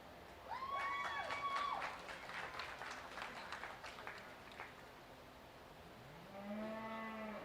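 At a county fair beef show, a cow bellows a long moo in the ring, followed by scattered applause and crowd noise, then a second lower moo near the end.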